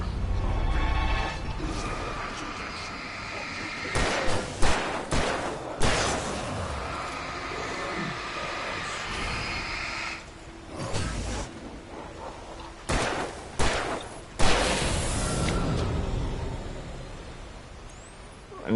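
Gunfire in Alan Wake Remastered, loud sharp shots in separate bursts, a few clustered close together between quieter stretches of ambient rumble.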